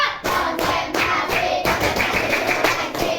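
A school class claps in unison on a teacher's count, giving a series of sharp, close group claps in bursts at a steady rhythm, with short pauses between sets.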